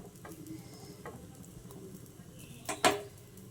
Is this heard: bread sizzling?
yes